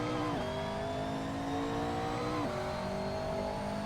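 A race car engine in a racing video game revs steadily at high pitch, shifting gears twice with a quick drop in tone before climbing again, loud and continuous with no talk.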